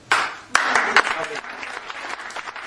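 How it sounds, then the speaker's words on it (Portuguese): A burst of applause fills a radio studio in Porto for the guest, the writer Fernando Campos de Castro, starting sharply and fading over a few seconds, with some voices underneath. "Estas palmas são dirigidas todas elas para o nosso convidado"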